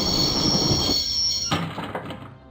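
A train in the Broken Sword: The Shadow of the Templars video game rumbles loudly along with metallic wheel squeal, then the noise drops into rattling clanks and fades out.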